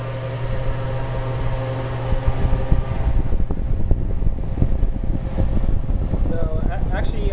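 A bank of three electric fans blows hard across a burning Zippo lighter flame, producing a steady, loud rushing roar of moving air with some low hum and rumbling buffeting throughout.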